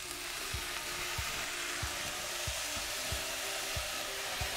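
Beef strips fry with soy sauce and sugar in a pan for Taiwanese beef noodles, giving a steady close sizzle broken by regular scraping strokes of the stirring utensil, with no talk.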